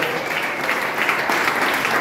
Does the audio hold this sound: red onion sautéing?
no